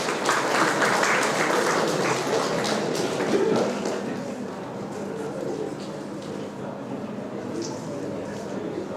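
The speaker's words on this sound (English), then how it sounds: "You think it is right, then clap for it." An audience at a tech talk applauds with steady clapping, strongest at first and then settling into a softer continuous patter, with murmured voices underneath.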